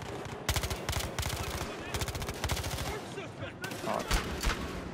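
Rapid automatic gunfire from the video game Battlefield Hardline, several loud sustained bursts with short gaps, close and dominant throughout.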